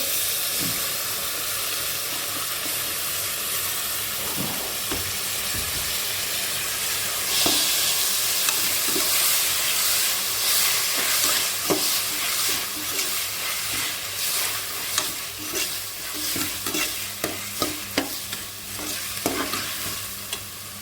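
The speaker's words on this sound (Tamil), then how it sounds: "தக்காளி போட்டு நல்லா வதங்கிட்டு" Tomatoes being sautéed for a vegetable biryani in a pan, a steady close sizzle and hiss with repeated scrapes and knocks of a spoon stirring throughout, with no talk.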